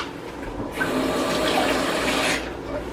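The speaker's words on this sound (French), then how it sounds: "J'ajoute un peu de l'eau." Water pouring into a cooking pot of homemade broth, a steady rushing splash that swells for about a second and a half and then stops, close and clear with no voices.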